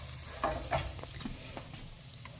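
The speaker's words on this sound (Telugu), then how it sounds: "ఇప్పుడు మనం ఇందులో వెల్లుల్లిపాయ వేయాలి." Crushed garlic fries in a pan with browned onions for an egg fry curry, giving a low, steady sizzle broken by a couple of soft stirring scrapes, close by with no voices.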